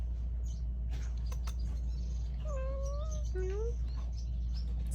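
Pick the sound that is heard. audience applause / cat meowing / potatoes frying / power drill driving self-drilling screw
cat meowing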